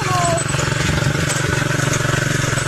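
A tractor engine runs steadily while crushing a harvest of cabbages on a farm in Enrekang, a loud close chugging drone with a speaking voice over it.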